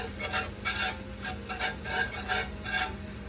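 Butter sizzles in a pan while a spoon stirs sausage gravy in steady, rhythmic scraping strokes, a constant frying hiss underneath, close and fairly loud with no talking.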